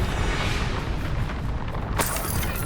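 A spell cast in Hogwarts Legacy, a Disarming Charm hitting in the middle of a fight, lands as a dense rumbling boom followed by a sharp bright crack near the end, loud and close.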